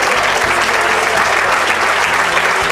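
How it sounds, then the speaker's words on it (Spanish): Loud, continuous clapping from a church congregation during a sermon, thick and uninterrupted over a low rhythmic accompaniment. "Ese aplauso al Señor."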